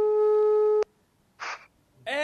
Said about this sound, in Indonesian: sekarang langsung aja kita telepon Mila Nosel yang ada di Blok M Square